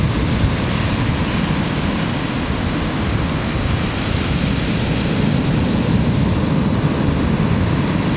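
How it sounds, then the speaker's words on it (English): Steady broadband roar of ocean surf breaking on a beach, continuous and fairly loud with no distinct individual wave crashes. "Zoom in a little bit on these waves."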